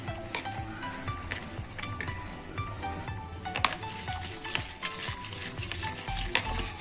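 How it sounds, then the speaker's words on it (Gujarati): Buttermilk is whisked into a kadhi batter in a bowl, a steady close patter of quick stirring strokes at a soft level, with no talk. "હવે તેમાં થોડી છાશ છે એડ કરી દઈશું આપણે અને વિસ્કરની મદદથી આ રીતે મિક્સ કરી લેવાનું છે"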